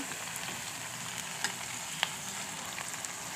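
Rice vada fry in hot oil, a steady, even sizzle with a few faint pops and crackles and no talking.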